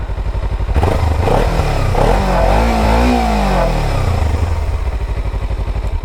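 A Kawasaki Ninja 300 twin-cylinder motorcycle engine runs loud and close, its exhaust rising in a rev and then falling back to a steady throbbing idle.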